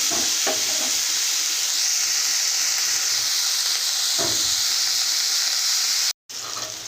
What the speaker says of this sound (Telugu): ఇలాగా బాగా వేయించుకోవాలి టమాటా ముక్కలు మెత్తబడేంత వరకు కాసేపు వేయించుకోవాలండి